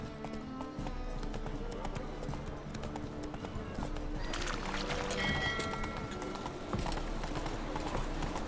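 Roach, a horse in a video game, moves at a steady rhythmic clip-clop of hooves throughout, growing into a faster gallop partway through, with faint voices beneath.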